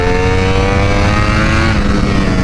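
A 2021 Ducati V4R motorcycle engine revs hard and continuously at high RPM, loud and close, with a sustained harmonic howl that rises slightly toward the end.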